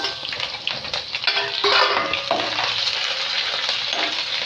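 Onions and green chillies fry in a pan for an amaranth-leaf and garlic dish, a close, steady sizzle broken by spatula scrapes and clinks against the pan.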